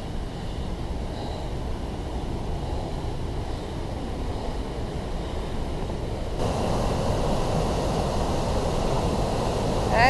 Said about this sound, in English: You can hear the water running down there.